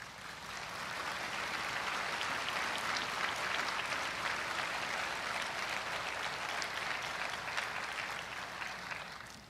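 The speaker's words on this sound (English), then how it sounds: "Please give them a round of applause." A large crowd applauds steadily at a funeral for a fallen Stockton police officer, a dense sustained roar of clapping that swells slightly and then tapers near the end, with no talk over it.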